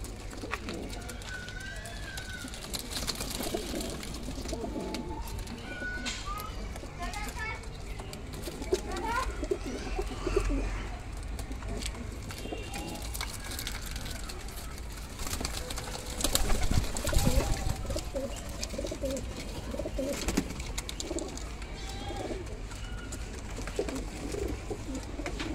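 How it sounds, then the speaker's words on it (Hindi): Pigeons, including a Madrasi pigeon and a red-eyed Jeera pigeon, coo faintly and intermittently amid loft noise, with someone talking over much of it. "भाई ये एक कबूतर नहीं है इसमें, वो मद्रासी कबूतर पीछे आ गया है ना"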